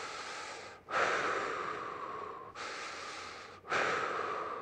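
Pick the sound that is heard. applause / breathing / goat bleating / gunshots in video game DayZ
breathing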